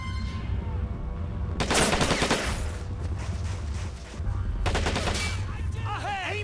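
Heavy bursts of machine-gun fire and scattered shots in a Men of War Assault Squad beach assault, loud and close, separated by a short lull, with faint voices in the background.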